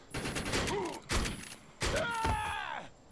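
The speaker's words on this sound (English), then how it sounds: "This here is a single-shot pump-action shotgun." Single-shot pump-action shotgun fired in the video game Defiance: three heavy blasts with pauses between them, each trailed by a mechanical rack or rattle, loud and close.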